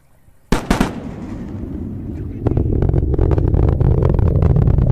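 Twin sonic booms from returning rocket boosters: a sharp double crack, loud and close together, followed by a sustained rumbling roar that swells and continues to the end. No talking.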